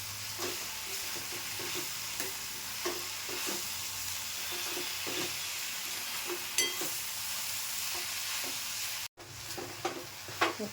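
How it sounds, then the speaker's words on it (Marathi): Drumstick (shevga) leaves sizzle steadily in a hot pan while a spoon stirs them, with a soft scraping every second or so over constant frying hiss and an occasional faint clink. "जरा अशी ढवळून घेते"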